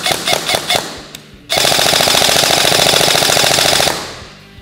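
A G&G airsoft gun with a G2 gearbox fires BBs up close: a few quick single shots, a brief pause, then a long loud full-auto burst of rapid mechanical clatter that cuts off and fades.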